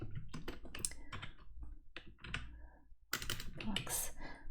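Rapid typing on a computer keyboard during a coding lab session, a near, irregular patter of key clicks in quick bursts separated by short pauses, fairly quiet overall with some faint voice in the background.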